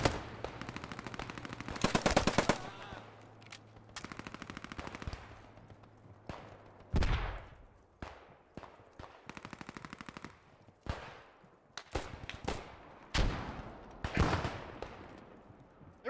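Gunfire erupts in the World War II video game Post Scriptum, with rattling machine-gun bursts and sharp single shots at varying distances, some loud and close, others fainter, and a low rumble underneath.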